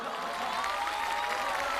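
An audience at a Tianjin crosstalk comedy show applauds, a dense, steady patter of many hands clapping at a constant level with no voices over it.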